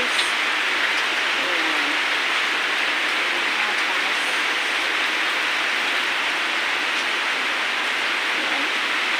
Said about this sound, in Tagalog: Umuulan po. Malakas yung ulan dito.